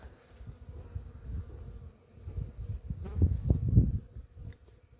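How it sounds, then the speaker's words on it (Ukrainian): Honeybees fly at a hive entrance in late February, buzzing close by in short, uneven swells that rise and fade. "Вже й нижнім з льотком йдуть бджолки."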